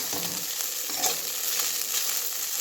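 Sabudana frying in hot oil with roasted green chilies makes a dense, even sizzle throughout, with faint stirring scrapes rising now and then.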